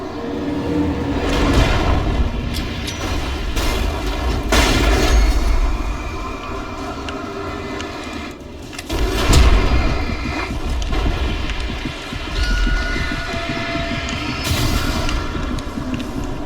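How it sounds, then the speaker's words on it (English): A passing train in the video game Alan Wake rumbles with heavy low-end roar and repeated clanking bursts across the whole span, loud and steady with swells around the middle, no talk over it. "Ooh, a choo-choo train."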